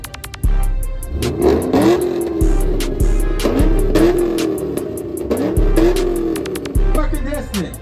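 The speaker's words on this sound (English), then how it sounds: "Alright, so now we're gonna have the Camaro" Chevrolet Camaro engine revving hard at a car meet, several loud throttle blips rising and falling in quick succession, with crowd voices faintly in the background.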